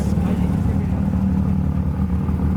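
A Porsche 991.1 GT3 idling at a car meet outside a cafe, a steady low engine rumble held evenly and close throughout, with no clear revving.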